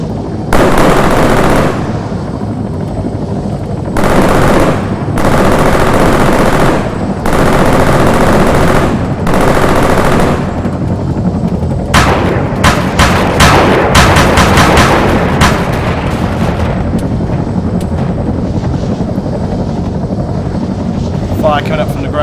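Ground fire in the Arma 3 video game rattles in loud bursts over a steady helicopter rotor drone, starting with long sustained volleys and breaking into rapid clustered shots, while a voice talks over part of it.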